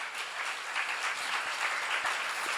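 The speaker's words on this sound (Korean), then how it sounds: "여러분 나도 그래야 되는 것이면 박수로 가주세요" A congregation at a church seminar claps in steady, moderately quiet applause that fills the short stretch without any speech over it.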